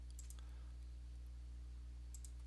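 A computer mouse gives a few sharp clicks in two small clusters, near and quiet against a steady low hum.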